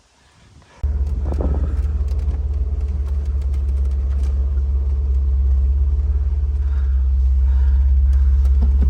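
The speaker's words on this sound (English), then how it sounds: "Gonna take it for a test drive" A Jeep just fitted with a new rear brake caliper sets off on a test drive, the engine starting up with a sudden low rumble that settles into a steady, heavy drone heard from inside, with faint rattles.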